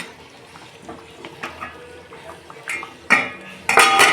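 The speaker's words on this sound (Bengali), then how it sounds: "দেখুন বন্ধুরা, আমি ঢাকনা খুলছি।" A metal lid comes off a cooking pot of simmering meat curry on a gas stove, giving a few soft clinks and scrapes that build to a louder clatter near the end, close by with no talking.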